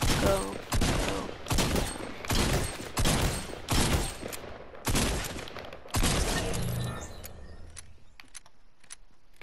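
Shotgun fire in Fortnite, pump versus TAC, comes as six loud, close blasts in a steady rhythm, each ringing out briefly before the next, then fading into quieter clicks and rattles at the end.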